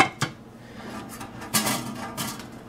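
A pot lid clanks onto a Heritage The Rock one-pot pan of vegan Mexican rice, giving a few sharp metallic knocks and rattles at close range.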